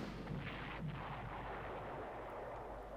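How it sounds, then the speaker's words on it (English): Continuous rumbling artillery fire with dull, overlapping booms in the Panzer Corps wartime strategy game, set in a 1941 battle near Moscow; steady and dense with no speech. "the overpowered artillery here is a real help"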